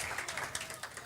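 A church congregation applauds, a soft, diffuse patter of many hands clapping at a distance, fairly quiet and steady throughout the short moment.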